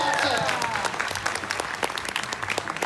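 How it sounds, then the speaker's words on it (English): Audience applause at a Disney park show fills the whole stretch, a dense, steady clatter of many hands clapping at close range, with some voices mixed in. "Give the man a round of applause for all that dancing."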